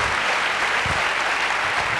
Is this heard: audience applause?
yes